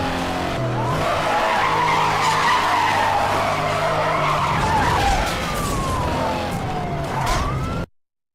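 A car skids with a long tire squeal and engine roar in the racing game Need for Speed, loud and continuous with a siren-like wail rising and falling, then cutting off abruptly.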